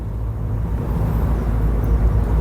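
Peugeot 206 CC convertible car driving through its gears on a nice day, with a steady low engine and road rumble heard from inside the open-top cabin, even and continuous with no talk.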